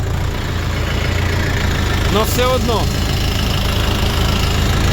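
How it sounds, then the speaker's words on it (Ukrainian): Chinese tractor engines, including a Dongfeng, idle with a loud, steady low rumble that fills the whole stretch, while someone talks briefly over the noise. "Ну і мотори працюють."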